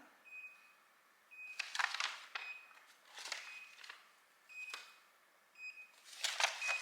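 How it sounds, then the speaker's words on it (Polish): Short electronic beeps from a small gadget recur a few times, mixed with soft handling rustles and clicks, fairly faint and close. "piknięcie"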